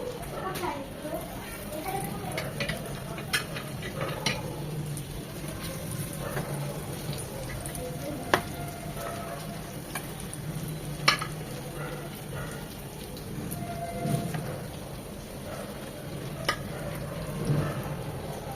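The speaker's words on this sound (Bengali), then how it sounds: "এগুলো একইভাবে সেমভাবে 2 থেকে 3 মিনিট এক পাশটা ভেজে নেব।" Liver frying in a pan sizzles steadily at moderate volume, with occasional clinks and scrapes of utensils, while a person speaks throughout.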